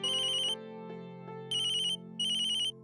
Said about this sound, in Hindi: ओहो, अब किसका फोन है?